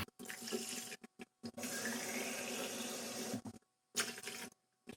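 Water runs from a tap into a measuring cup in a few bursts, a steady hissing stream broken by short pauses, close by with no talking.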